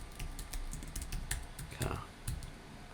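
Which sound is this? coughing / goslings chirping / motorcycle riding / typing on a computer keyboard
typing on a computer keyboard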